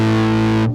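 An electric guitar chord played through a Big Muff distortion pedal with the sustain turned up rings loud and thick, with a buzzing, fuzzy tone that holds steady for under a second before cutting off.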